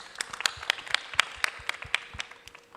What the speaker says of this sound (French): Applaudissez d'abord pour moi.